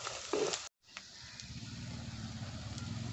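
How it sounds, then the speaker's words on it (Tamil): Onions sizzling steadily in a hot pan with a little salt, a continuous frying hiss after a brief gap, close and moderately loud, no voices. "கொஞ்சமாக சால்ட் சேர்த்து நல்லா வறுத்துக்கிறேன்."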